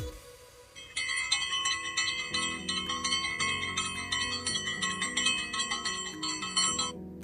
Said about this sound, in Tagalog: May bell dito.